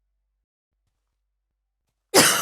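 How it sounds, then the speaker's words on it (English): A single harsh cough bursts out abruptly after a long stretch of silence and is cut off at the end, close and fairly loud. "Other than the coughing"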